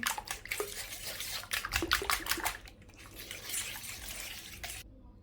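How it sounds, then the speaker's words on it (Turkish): Olive oil, about half a tea glass, is poured into a bowl already holding mixed yogurt and eggs for a flourless lentil loaf, a soft close trickling and splashing that tapers off and stops near the end. "Zeytinyağımı döküyorum."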